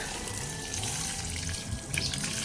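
Homemade, unfermented root-growth liquid poured onto a potted pink Mon Sukhothai rose, a close, continuous trickling splash of water running steadily into the soil with no talk.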